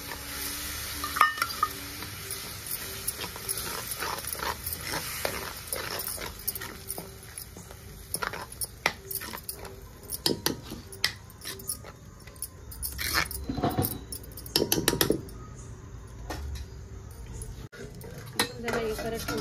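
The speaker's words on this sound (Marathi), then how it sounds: "आता आपला पालकची ग्रेव्ही केले ना ती टाकू" Spinach gravy for palak paneer is stirred in a pan, giving close metallic scraping and clinking of a spoon against cookware with light sizzling, irregular and busy throughout, while a dog barks somewhere in the background.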